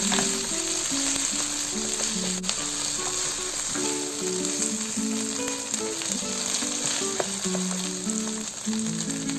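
Tomato and curry leaves frying in hot oil for vegetable pulao make a loud, steady, close sizzle with no talking, while light music plays underneath.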